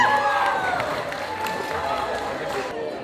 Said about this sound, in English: Round of applause for Paulette and Aaron, ladies and gentlemen.